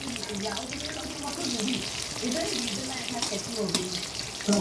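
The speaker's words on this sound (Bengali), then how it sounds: "এখানটায় পটল ভাজা করছি আর কাঁকরোল ভাজা করছি" Pointed gourd (potol) and spiny gourd frying in a pan, a steady close crackling sizzle that runs throughout with no talk over it.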